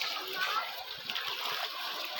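Strong spring water rushes and splashes steadily at close range, a broad continuous hiss of gushing flow with no pauses.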